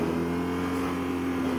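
BMW R nineT Racer motorcycle from 2017 with its engine revved hard, a steady loud droning roar that holds without break and carries no talk over it.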